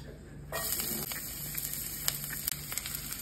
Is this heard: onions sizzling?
yes